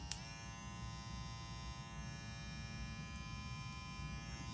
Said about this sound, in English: show you how quiet the Play clipper is